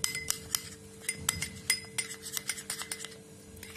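A spoon clinks repeatedly against a bowl while rose water is mixed into a face paste, bright irregular taps in quick succession, close and fairly quiet, with no talking.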